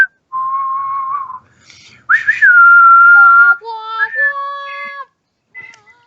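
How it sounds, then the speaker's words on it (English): A person whistles a short Western standoff-style tune, clear and close, with sustained and sliding notes and brief pauses between phrases; no talking is heard. "What's with the whistling?"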